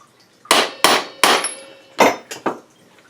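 A hammer taps the crankcase halves of a 1980 Suzuki FZ50 together in five sharp, close knocks, two quick pairs and a final pair, spaced over about two seconds.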